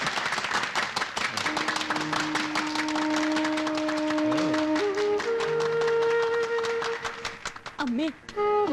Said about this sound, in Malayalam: കയ്യടി കയ്യടി കയ്യടി കയ്യടി കയ്യടി.